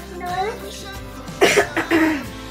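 A few sharp coughs in quick succession, close by, after a stretch of quiet background.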